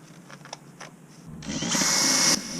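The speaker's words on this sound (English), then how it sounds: "Drilling holes into the old fiberglass is called pinning" A power drill bores into old boat fiberglass during a structural repair, starting with light taps and clicks before a loud, steady high whine runs for about a second, then cuts off.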